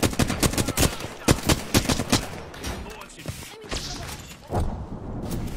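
Rapid bursts of charge rifle gunfire in a first-person shooter video game, loud sharp shots in quick clusters, with faint game sounds and a brief voice in the background.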